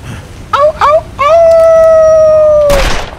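A person imitates a wolf howl: two short rising yelps, then one long, loud, sustained howl that slowly falls in pitch and ends in a brief burst of noise.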